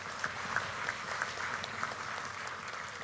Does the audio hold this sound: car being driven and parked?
no